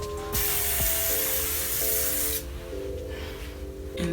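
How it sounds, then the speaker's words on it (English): A steady aerosol hiss of Sebastian hairspray on curled hair runs for about two seconds, then drops to softer, intermittent spraying with faint rustling. "I'm just gonna spray some Sebastian on my hair."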